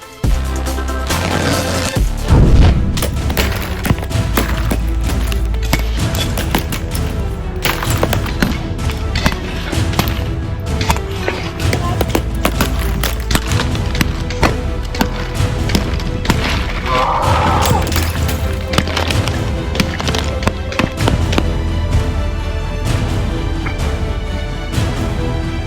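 Bouncy balls fired from a slingshot smash into a detailed LEGO city, a loud, dense barrage of repeated thuds, clatters and scattering plastic bricks, with occasional heavier booms throughout.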